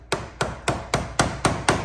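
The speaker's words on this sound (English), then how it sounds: "and then take a hammer" Seven evenly spaced metallic taps of a hammer striking a flathead screwdriver against a radiator hose on a Fiat 500 Abarth, sharp and close, in a steady rhythm.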